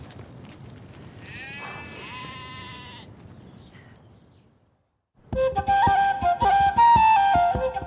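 Ewes in a Green Valley flock bleating, a wavering bleat early on, then after a brief silence a louder, closer burst of overlapping sheep calls.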